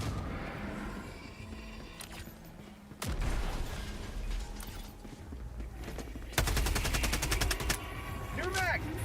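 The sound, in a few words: reloading a new magazine in a video game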